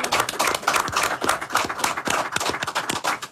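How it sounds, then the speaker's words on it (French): An audience applauds, with dense, rhythmic clapping that stays loud and steady throughout, up close and without talk. "On peut applaudir."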